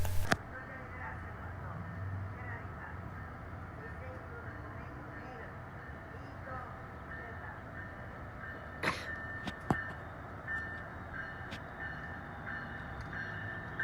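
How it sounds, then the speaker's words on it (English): A Metrolink commuter train rumbles steadily nearby at low volume at Glendale station, with a few brief clanks and a short high tone partway through. "take a look at this Metrolink train arrive and depart the station"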